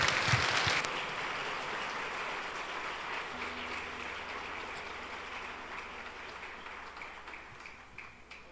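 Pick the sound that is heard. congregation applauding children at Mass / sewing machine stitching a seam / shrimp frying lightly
congregation applauding children at Mass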